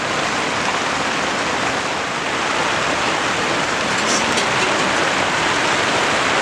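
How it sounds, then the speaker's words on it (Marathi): Heavy monsoon rain in a Konkan village pours down in a dense, unbroken hiss, loud and steady throughout, with no voices. "जास्त पाऊस झालो"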